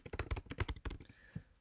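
Quick bursts of keystrokes on a computer keyboard while a short blog bio is typed, close and soft clicking in uneven clusters, no talking.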